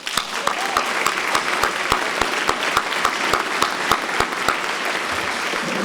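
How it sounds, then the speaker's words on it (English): Audience applause at the 2021 Julian L. Simon Memorial Awards dinner, a steady, loud wash of many hands clapping with sharp individual claps standing out, sustained throughout. "So to Kent, here's a round of applause."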